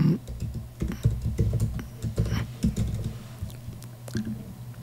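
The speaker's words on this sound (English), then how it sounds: "And type in my password." Rapid clicking keystrokes on a computer keyboard as a password is entered, close and continuous for several seconds.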